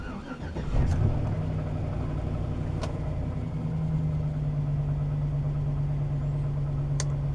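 A Chevy Silverado pickup truck engine with a faulty throttle position sensor cranks and catches, then settles into a steady, slightly high idle around 1,000 RPM that rumbles on continuously close by.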